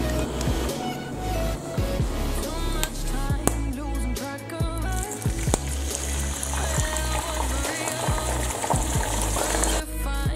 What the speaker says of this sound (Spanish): Esto todo lo cocinaremos con 15 mililitros de aceite de coco. Y nada, aquí tenéis. Vamos a echar a la sartén.